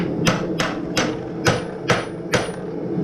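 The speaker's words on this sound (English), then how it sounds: "I'm gonna hit with my hammer because I want that bend to be" A blacksmith hammers hot metal to bend it while forging a dinner bell: six sharp, ringing strikes land close by at a steady pace, each with a bright metallic decay.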